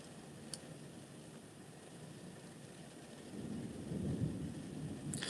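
Thunderstorm outside with steady rain hiss throughout and low rumbling thunder that swells louder in the second half, heard from indoors at a moderate distance, with no talking.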